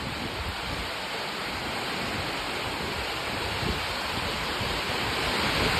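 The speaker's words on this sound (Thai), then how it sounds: "ฝนตกแรงมาก" Heavy rain in Trakan Phuet Phon, Thailand, pours down in a continuous, even roar, broad and hissing, with no voices or breaks.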